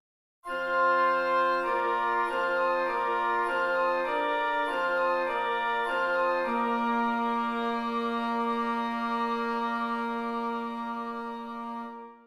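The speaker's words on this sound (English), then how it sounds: "Together, the woodwinds sound like this." Flutes, oboes, clarinets and bassoons of an orchestral woodwind section play together in a Romantic symphony style, moving through sustained chords before settling on one long, full held chord that fades at the end.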